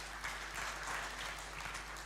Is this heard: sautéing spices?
no